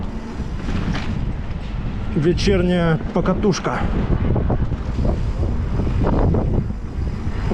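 A strong, furious winter wind on a late-February ride around Yalta in Crimea roars and buffets the microphone continuously, with a voice speaking briefly over it.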